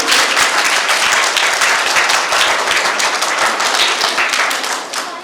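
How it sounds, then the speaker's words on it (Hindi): A close audience at an Arya Samaj children's camp event claps loudly and steadily for about five seconds, the dense applause tapering slightly at the end with no talk over it. "जितना शानदार कार्यक्रम है, तालियां उनकी शानदार नहीं है,"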